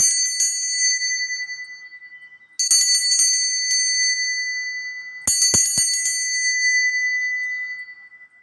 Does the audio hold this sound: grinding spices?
no